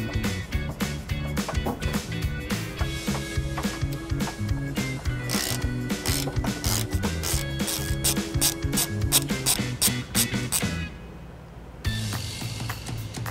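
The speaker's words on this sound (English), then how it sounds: "You'll be using a 13 millimeter wrench" A 13 mm ratchet wrench works on the trailer hitch bolts of a 2015 Audi Allroad, giving fast, steady, close metallic clicking in long runs that stops briefly near the end before resuming.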